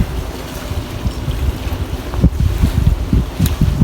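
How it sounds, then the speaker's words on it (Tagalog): Wind gusts buffet the microphone outdoors by the sea, with low rumbling bursts over a steady washing background of nearby surf. "kanindot to sa hangin"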